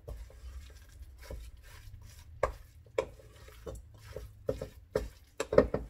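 A wooden spoon works through a thick meatloaf mixture in a bowl, giving soft, irregular stirring and scraping knocks with a few sharper taps near the end, fairly quiet and close.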